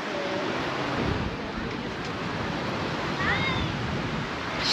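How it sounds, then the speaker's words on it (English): Breezy wind buffets across the seafront at Sa Coma in Mallorca, a loud, steady rushing roar with a low rumble. Faint surf or distant background noise sits underneath, and no one speaks. "Still quite breezy though."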